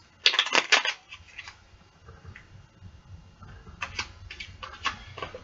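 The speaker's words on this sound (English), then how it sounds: "Shuffling out that deck." Quick bursts of crisp, rapid flicking as a deck of cards is shuffled up close, once at the start and again near the end, with quiet rustling between.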